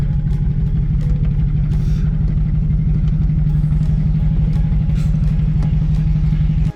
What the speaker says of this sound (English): No exhaust on a Buick is not a good combo.